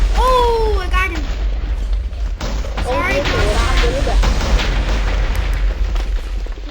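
Heavy booming TNT explosions in a video game, loud broadband blasts rolling continuously over several seconds while people talk excitedly over them.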